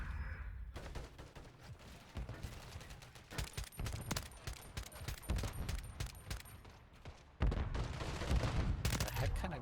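Rapid bursts of gunfire from Lethal Company, loud and dense, with sharp shots and booms crowding together in a steady fusillade that swells even louder toward the end, with a voice briefly heard over it.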